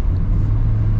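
A 2022 Mazda Miata Grand Touring with manual gearbox being driven gives a loud, steady low engine drone and road rumble from inside the cabin, without voices.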